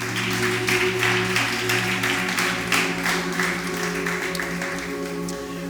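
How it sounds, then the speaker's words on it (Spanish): Church congregation applauding during a sermon, a steady rush of clapping over a sustained low musical drone, moderately loud and gradually easing off. "Dale ese aplauso al Espíritu Santo"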